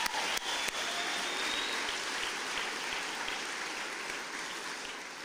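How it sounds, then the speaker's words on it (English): A crowd claps at a food bank launch rally in Glasgow, a dense, steady wash of applause that holds strong throughout and eases only slightly toward the end. "So a big round of applause for them."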